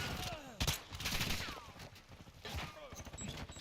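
Weak-sounding gun fired in the game Modern Warfare II, a few quick pops and short bursts amid busy battle noise and someone talking over it, all fairly faint.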